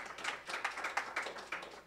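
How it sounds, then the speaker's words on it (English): Sparse audience clapping at a civic justice and policing event, faint and a little distant, with a handful of separate claps and small bursts spread unevenly across the moment and no talking over it. "that clapping came from the people who have been working on this for a year with me"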